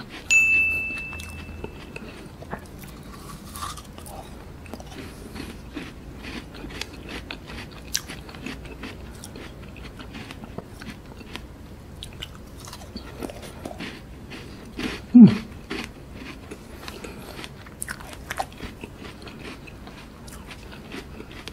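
Frozen sugar-free strawberry ice, eaten leaves and all, is bitten and chewed close up, giving steady crunching with one hard, loud crack midway through.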